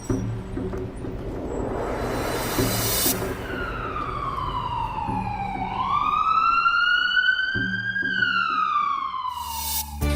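An ambulance siren wails close by in a stage dance drama, sweeping slowly down then up in long rising and falling tones over a rumbling background.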